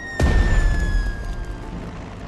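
A bombing strike in the Strategic Mind wartime strategy game lands as a sudden heavy boom with a sharp attack, followed by a rumbling decay of debris and a faint lingering tone.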